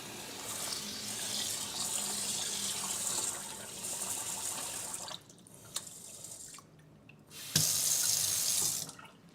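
Running tap water pours steadily into a container holding rice, loud and close, then the flow cuts out briefly before a final strong burst; no voices present.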